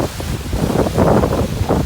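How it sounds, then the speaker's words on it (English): Strong wind buffets the microphone on a rough-water shore while waves wash in, a loud, continuous roaring rush with surging swells. "I don't know if you can hear me with the wind"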